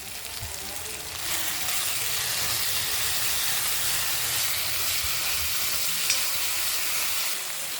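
Asafoetida drops into tomatoes sautéing in a pan for Kerala rasam, and a steady broadband sizzle builds and holds close and even after a brief quieter start.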